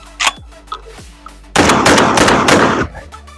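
Fiocchi home defense shotgun shells fired from a semi-automatic shotgun: a few sharp shots early on, then a dense rapid string of loud blasts lasting over a second, with a faint voice near the start.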